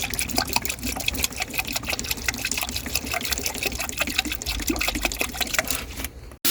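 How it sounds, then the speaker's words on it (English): Water streams steadily into a container for several seconds, a continuous close pouring and splashing rush that cuts off abruptly at the end. "Now I'm going to fill it with water."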